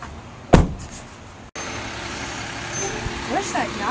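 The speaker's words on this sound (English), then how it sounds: "Get the recycle truck coming." Recycling truck arriving on a residential street in the Heritage Hill neighborhood of Grand Rapids, Michigan, with a sharp bang, then a steady engine rumble and squeaking brakes building up nearby.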